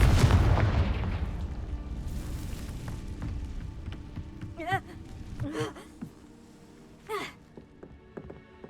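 A Confringo blasting spell goes off in Hogwarts Legacy with a heavy, booming blast at the start that slowly fades, followed by several short whooshing, warbling spell effects.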